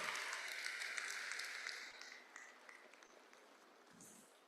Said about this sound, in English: Please, a better applause for the Vice Chancellor